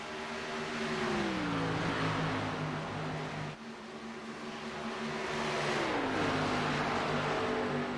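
K&N Series race cars roar around the track at Texas, engines droning loudly with rising and falling pitch as cars pass, continuous and close with no talk.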